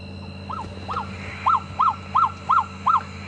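A recorded freckled nightjar call played aloud on an evening game drive at Djuma Game Reserve: a few faint notes, then five loud, evenly spaced, yapping double-noted calls that sound like a small dog barking.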